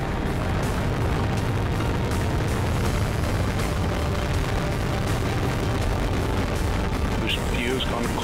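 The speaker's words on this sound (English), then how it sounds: "We have RD-180 ignition and we have liftoff of the United Launch Alliance Atlas V rocket" United Launch Alliance Atlas V rocket lifting off on RD-180 engine ignition, a continuous loud, dense roar and rumble that fills the whole clip.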